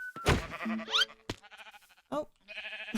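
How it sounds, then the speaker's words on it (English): Sheep in the video game Minecraft bleat several times in quick, close succession, the wavering cries clear and fairly loud, with brief gaps and some game clatter between them. "Now let's grab some sheep so that we can get some wool"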